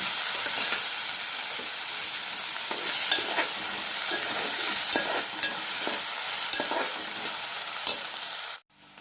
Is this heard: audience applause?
no